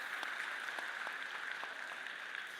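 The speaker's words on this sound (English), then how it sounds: "So let's applaud that." Audience of teachers applauding at a cluster opening ceremony, a faint, steady patter of clapping throughout with distinct individual claps standing out, heard from some distance.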